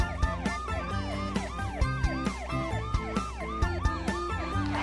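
A toy ambulance siren wails in looping rising and falling sweeps, close and fairly loud, with a repeating electronic pulse beneath it.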